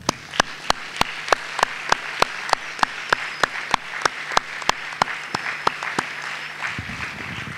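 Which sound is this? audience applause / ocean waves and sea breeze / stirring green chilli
audience applause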